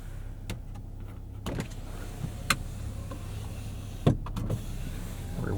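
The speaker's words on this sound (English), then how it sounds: "Rear window that opens." The power rear window of a 2025 Ram RHO pickup hums as its motor slides it open inside the cab, a steady whir with a few soft clicks and thumps, with no talk.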